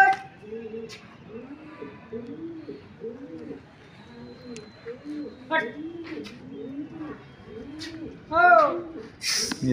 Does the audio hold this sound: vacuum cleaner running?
no